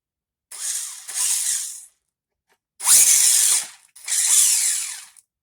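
A steering servo on a brushless RC car whirs in three short high-pitched bursts separated by silence, close and fairly loud.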